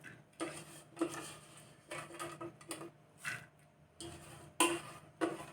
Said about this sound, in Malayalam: ഇതിപ്പോൾ ഈ ചട്ടിയിലോട്ട് നമ്മൾ നന്നായിട്ട് കഴുകി മാറ്റി വെച്ച കൊഞ്ചിടുവാണ്.